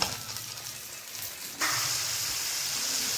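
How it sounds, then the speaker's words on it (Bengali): Fish simmering in a pot with a ground mustard, poppy seed and coriander paste gives a steady bubbling sizzle that grows louder and fuller partway through, with no talking. "এদিকে মাছ ফুটছে"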